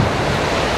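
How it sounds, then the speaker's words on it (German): Large ocean waves breaking on the Gran Canaria shore at Arinaga, heard as a brief, loud, steady wash of surf with wind buffeting the microphone and no voices. "gibt es hier richtig, richtig große Wellen"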